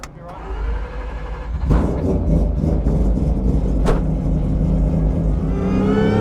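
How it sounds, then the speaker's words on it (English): A rotary-engined car revs hard at the rev limiter during a burnout, a loud, sustained engine roar that builds and holds close by, with people talking under it. "Is limiter okay if I do a burnout?"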